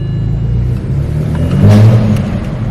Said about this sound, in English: Was that the exhaust? Yeah, it is the exhaust.